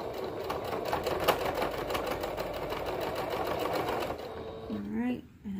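A sewing machine runs steadily, stitching the hem of a toddler hoodie with a fast, even mechanical whir close by, then stops as a person briefly speaks.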